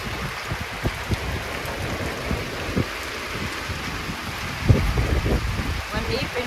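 Steady rain falls outdoors in a dense, hissing patter, with occasional heavier drops and splashes and a voice talking over it.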